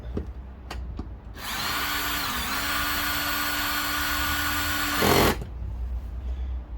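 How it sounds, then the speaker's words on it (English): A cordless drill on a low torque setting drives screws during an Audi Q7 window switch replacement, with a steady close whine for about four seconds that ends in a brief louder burst as it stops. "it's on quite a low setting on my drill here before it torques out"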